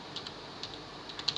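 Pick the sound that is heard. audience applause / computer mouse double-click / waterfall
computer mouse double-click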